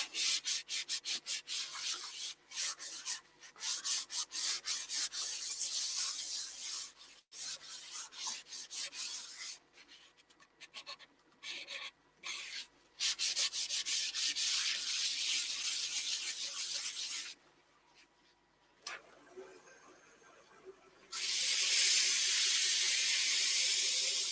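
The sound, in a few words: polishing a wooden vase with Yorkshire Grit abrasive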